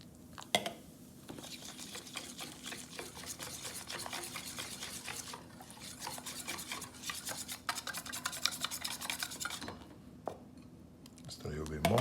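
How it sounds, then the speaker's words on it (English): Tempura batter of flour and beer is whisked in a bowl, a quiet, continuous scraping and stirring with brief pauses, while a person speaks softly over it. "You wanna add a little bit at a time and whisk it"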